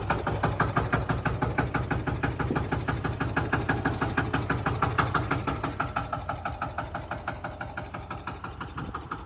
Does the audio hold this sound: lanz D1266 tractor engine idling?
yes